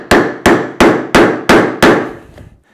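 Six sharp, loud mallet blows on a wood chisel at a woodworking workbench, evenly spaced strikes, each ringing briefly before the next, with no voices.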